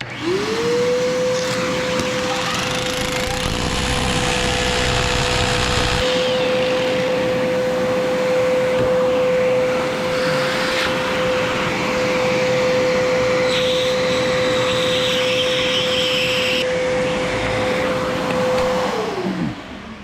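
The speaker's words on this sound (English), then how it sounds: "We're using a vacuum to kind of keep it a little cleaner, so it's gonna be loud" A loud, steady dust vacuum whine drones continuously with a sustained motor tone, overlaid by gritty grinding and rattling of drilling into concrete.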